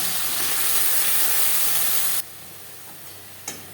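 Ginger, green chili and garlic paste dropped into onions frying in oil, a loud steady hiss and sizzle that suddenly drops to a quieter sizzle, followed by a small clink.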